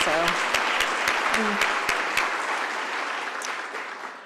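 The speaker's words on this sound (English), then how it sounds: "I'd like to ask for a special round of applause for Carroll Ronrud" An audience applauds Carroll Ronrud at a Montgomery College Foundation spring closing meeting, a steady wash of clapping from a large room that holds evenly and fades slightly at the end, with a few distinct claps near the start.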